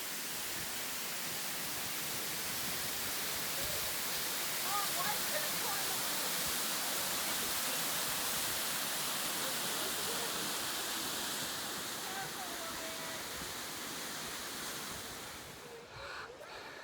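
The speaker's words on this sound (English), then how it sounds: "I have not been this close to a waterfall ever" A waterfall in Tutka Bay, Alaska roars in a dense, unbroken rush of falling water, loud and close, fading slightly toward the end.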